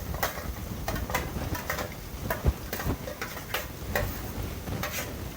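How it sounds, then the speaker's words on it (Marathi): Mixed vegetables frying in oil for veg biryani, a steady sizzle broken by repeated sharp ticks and scrapes of stirring spaced irregularly, close and moderately loud with no talking. "भाज्या पण पूर्ण तेलामध्ये फ्राय होऊन जातात मस्त मऊ मऊ होतात त्या"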